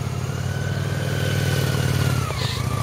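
A motorcycle engine runs steadily throughout as the rider works the clutch and throttle during a slow-speed riding class, with a continuous low rumble and a slight shift in pitch near the end.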